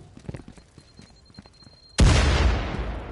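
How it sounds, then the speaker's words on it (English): A grenade goes off in the shooter game Firewall Zero Hour, a sudden loud blast with a long rumbling tail, coming after a few seconds of quiet footsteps and faint game noise. "As I open, throw the grenade."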